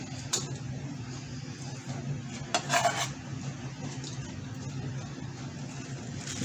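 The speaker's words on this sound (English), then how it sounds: "as I shred it, I'm just going to put it in that bowl to make room" Food being shredded is dropped into a big bowl, with soft clatter and scraping of dishes and utensils, a brief louder clink midway, heard quietly against a low steady background hum.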